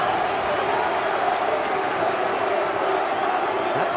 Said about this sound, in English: Huge cheer from around the ground when Dean Brill caught that one